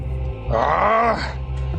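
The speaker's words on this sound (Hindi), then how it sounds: "राक्षस दर्द से कराह उठा।" A demon groans in pain, a single drawn-out, strained vocal moan rising over a steady low hum, close and loud, lasting about a second.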